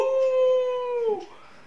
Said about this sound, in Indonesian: serigala